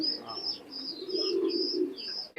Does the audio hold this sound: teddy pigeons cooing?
yes